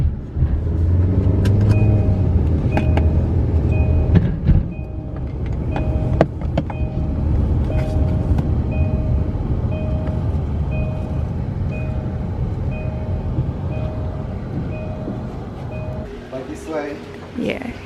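Private car driving, heard from inside the cabin in Punta Cana: steady low road rumble and engine hum fill the whole stretch, with a faint repeating chime, a few clicks, and people talking over it.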